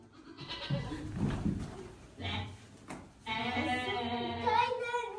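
A goat bleats several times, short wavering cries followed by a longer, drawn-out bleat near the end, fairly close and clear.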